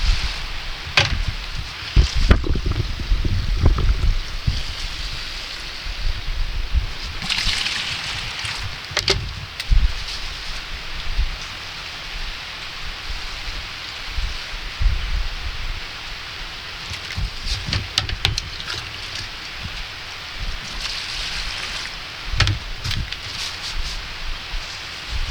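Water runs off potted plants during watering, with soft, steady splashing and trickling broken by occasional louder knocks and rustles close by, no voices.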